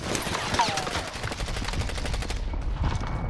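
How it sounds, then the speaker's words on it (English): Rapid automatic gunfire in a video game firefight in the woods: a steady run of loud, closely spaced shots that stops abruptly near the end. "I'm getting shot from somewhere else"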